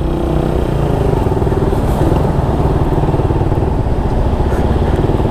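A motorcycle engine drones steadily and loudly close by, its low rumble and fine rapid pulsing continuing without a break as the bike rides along a road.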